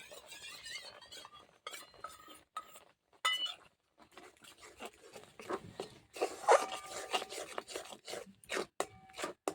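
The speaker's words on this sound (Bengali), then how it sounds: "সবসময় এইভাবে নাড়তে হবে নাহলে তলাতে লেগে যাবে" A spoon stirs and scrapes a thickening kacha golla sweet mixture, with cornflour and water added, around a pan, making irregular clinks and rasping scrapes at close range with no talking.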